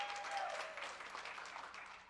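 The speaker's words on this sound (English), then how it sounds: "Give yourself a round of applause." An audience applauds at a conference event after taking a pledge, a brief, fairly faint burst of clapping that fades away within about two seconds.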